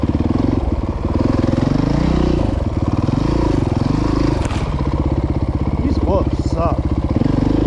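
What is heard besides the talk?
dirt motorcycle engine revving on trail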